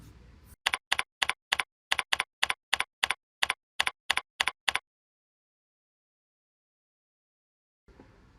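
Typing a search query on a computer keyboard: a quick run of about fifteen evenly spaced, crisp keystrokes close to the mic, then a few seconds of silence before faint background noise returns.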